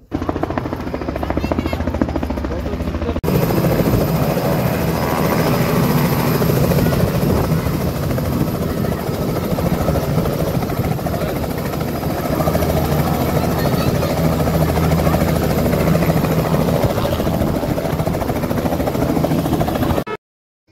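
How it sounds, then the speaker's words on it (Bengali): A helicopter landing at a wedding ground on a madrasa field makes a loud, steady rotor thrum and engine whine for the whole stretch, with faint crowd voices underneath. "এখানে এখন বর হেলিকপ্টার থেকে নামবেন।"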